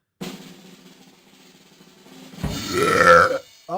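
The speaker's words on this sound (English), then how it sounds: "I got a burp coming." A man lets out a long, loud burp up close, starting low and drawn-out, then swelling into a louder, throaty, voiced belch near the end before cutting off.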